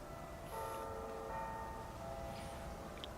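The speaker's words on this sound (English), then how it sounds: "Church bells on the go." Church bells ring in the distance along a narrow rural path between the Severn and a railway. The tolls are faint and sustained, with lingering tones over a low outdoor rumble and no speech.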